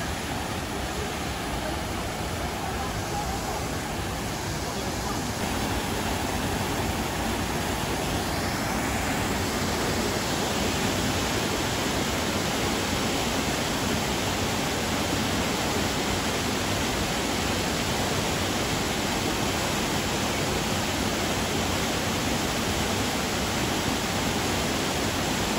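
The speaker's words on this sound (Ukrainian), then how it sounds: "Тут все вже, всі стежки положені. Ось такий водоспад." A powerful Carpathian waterfall roars as a dense, unbroken wash of rushing water, loud and steady throughout with no pauses.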